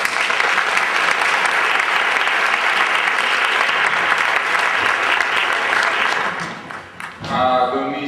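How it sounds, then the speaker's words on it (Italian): An audience claps warmly to welcome a guest at a talk, dense continuous applause that fills most of the stretch, then thins out abruptly near the end as a voice starts speaking. "che accogliamo con un applauso"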